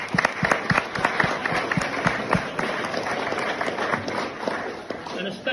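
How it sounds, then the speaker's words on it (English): Wedding guests clap and cheer in a reception hall, a continuous, fairly close burst of applause with scattered sharp claps and crowd noise mixed with voices. "We're looking to give a round of applause to Gemma."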